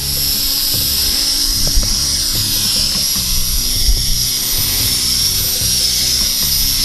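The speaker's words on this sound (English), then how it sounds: "I'm full throttle and it's kind of dropping on its own now" Motors of a Syma X9 flying car drone run at full throttle as it tries to stay airborne, a steady high-pitched whine with buzzing rotor tones, close and loud throughout, no voices.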